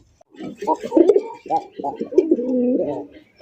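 Fancy Rajgolla pigeons at a pigeon farm coo up close in a series of soft, throaty, rolling bursts, one after another, with brief pauses between calls.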